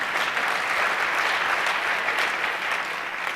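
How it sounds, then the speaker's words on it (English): Sustained, dense audience applause fills a meeting hall at a North American optometry conference, steady and loud throughout with no voices over it. "Dollars always get applause here."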